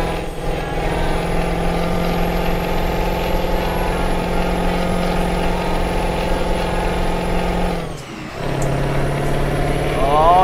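A Hino dump truck in Euro Truck Simulator 2 drives on a snowy road, its loud, steady diesel drone holding before a sudden drop and shift near the end, then climbing again as it accelerates.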